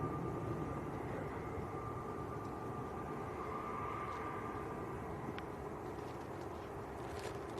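Turkish Airlines jet taxiing out at Manchester Airport, a faint, distant steady engine whine with a thin tonal hum over broad background rumble, no talk.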